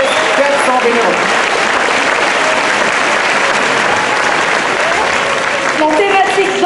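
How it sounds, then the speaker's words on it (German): Loud, continuous crowd applause at the opening ceremony of an international folklore festival in Fribourg, steady and close, with brief speech audible at the start and end. "Grand applaudissement pour tous les bénévoles cette année pour ce record de 400 bénévoles."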